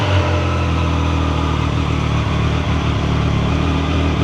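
A Triumph Tiger 800 Sport motorcycle engine runs at a steady idle, a loud, continuous close-up drone with no talk over it.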